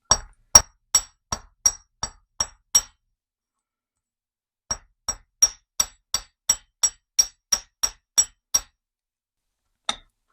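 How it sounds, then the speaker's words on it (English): Light hammer strikes on wire earrings laid on a steel bench block: two bursts of crisp, ringing metallic taps in an even rhythm, about eight then eleven, with a pause between and one final tap. "put it on your bench block. Give it a light hammer on each side to set the shape into place"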